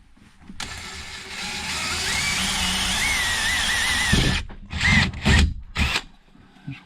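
Power drill boring small bolt holes for a windshield wiper install on a Honda Pioneer 700 utility vehicle, a sustained whining run that slows with a rising-falling pitch, then several short separate bursts, close and moderately loud.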